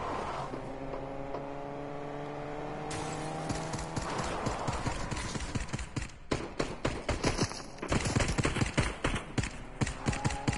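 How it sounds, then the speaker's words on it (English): Gunfire in a video game set in a prison: rapid, dense bursts of sharp cracks that grow heavier and more frequent over a steady musical tone, with no talking. "Whoa, nice gunshots."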